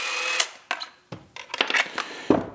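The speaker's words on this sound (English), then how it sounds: "So we'll back these 2 screws out." Two screws being backed out of a KSG Armory Lexington holster's Modwing attachment, a series of short close clicks and scrapes of the driver bit turning against the hardware.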